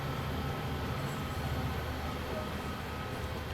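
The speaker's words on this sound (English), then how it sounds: "here comes another train now" A train rolls past in the Train Sim World 2 railway simulator on the Clinchfield Railroad, with a steady, loud, close rumble and low rhythmic wheel thumps holding for several seconds.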